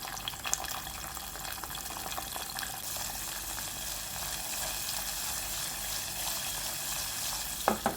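Spices frying with a pinch of asafoetida in a pan, a steady close sizzle running throughout with faint stirring and a couple of sharp clinks near the end.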